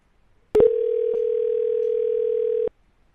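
A Fastcall auto-dialer places the next call: a single steady dial tone sounds loud and alone for about two seconds after a brief click, then cuts off abruptly.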